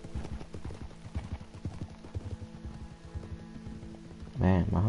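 Horse hooves clip-clopping at a steady walking rhythm in Red Dead Redemption 2, close and clear, with a brief voice at the end.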